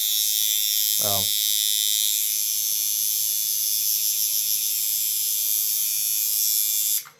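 A cheap coil tattoo machine from Amazon, wound with fake copper wire and running at 6 to 7 volts, buzzes loudly and continuously. A brief vocal sound breaks in near the start, and the buzz cuts off abruptly at the end.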